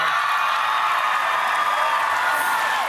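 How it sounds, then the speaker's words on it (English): A live crowd in a studio audience roars and cheers with scattered applause, a dense, sustained wash of noise holding steady at close range throughout. "You heard the crowd erupt"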